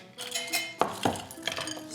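A bar spoon stirs ice in a mixing glass for a Toronto cocktail made with Fernet Branca, giving light clinks and chinks that include a couple of sharper knocks near the middle, with no voices.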